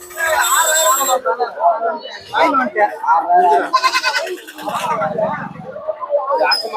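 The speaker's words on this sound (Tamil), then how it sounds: "இந்த வாரம் பார்த்தோன்னா வெள்ளாடு குட்டி கொண்டு வந்திருக்காரு" Young goat kids bleat repeatedly at the busy Ranipet goat market, loud close cries overlapping one another amid a crowd's babble and nearby talking.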